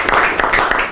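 Brief burst of applause for a salesman's weekly sales figures at a meeting, several people clapping in quick uneven rhythm, close and fairly loud.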